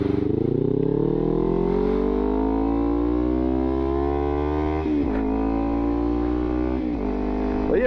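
A 2015 Kawasaki Ninja 300 motorcycle revs up with a rising whine, then shifts from first to second gear with a sharp drop in pitch, followed by another shift, loud and close.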